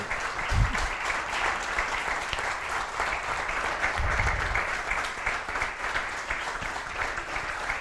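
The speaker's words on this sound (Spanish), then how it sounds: "agradeciéndole con un aplauso" Warm, continuous audience applause at a cultural talk event, thanking a guest known as el Turco, with a couple of low thumps beneath the steady clapping.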